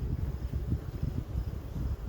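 A low, steady buzzing drone from honeybees in a beehive, close and continuous, pulsing slightly without a break.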